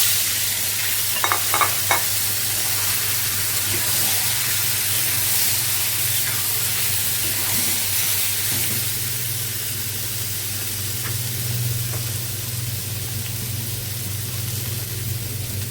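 Onion and vegetables fry in a pan on a home stove, a continuous loud sizzle and hiss with a few scraping stirs near the start, with no voices.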